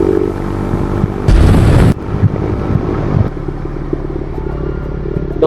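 A motorcycle with a modified exhaust rides past at a morning bike meet. The engine drones loud and close, with a sudden harsh roaring blast partway through, then the steady riding note returns.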